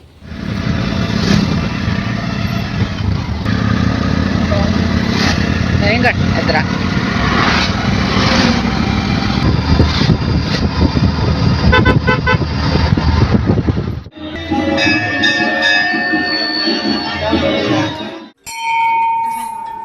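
An auto rickshaw carrying passengers to a temple in light rain, its engine a loud, steady rattling drone close by with horn toots and clatter, a voice talking over it before the noise abruptly cuts to quieter sounds.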